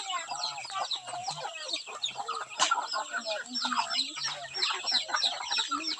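Darag native chickens on a farm give a steady chorus of clucking and chattering, with many birds overlapping at close to middle distance, one brief louder squawk, and low murmurs in the background.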